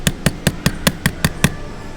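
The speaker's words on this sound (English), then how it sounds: "I'll take the hammer again, and I'll just hammer it on top just like that" A small hammer taps a metal watch case back eight times in a quick, even rhythm, sharp close clicks about a quarter second apart.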